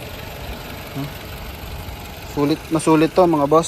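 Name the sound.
Toyota Camry engine idling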